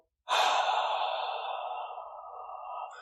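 A single long breath is pushed out through the mouth in a heart-breathing exercise, a breathy, airy "ha" exhale that starts abruptly after a moment of silence and slowly fades away.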